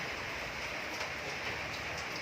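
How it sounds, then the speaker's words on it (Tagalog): Steady rain falls on a gloomy day, a dense even hiss of drops on surfaces that continues without pause, moderately loud and close, with no voices. "Na umuulan. Walang katapusang ulan."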